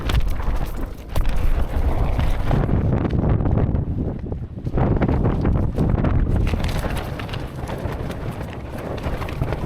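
Severe wind battering a double-poled tent while wild camping, a loud, continuous roaring buffet with fabric flapping and microphone rumble, easing slightly for a moment before gusting hard again, no talk.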